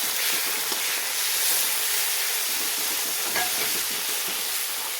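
Turmeric and tomato frying in a pan for a Bengali potato and drumstick posto dish, a steady close sizzle with light stirring scrapes and no talk.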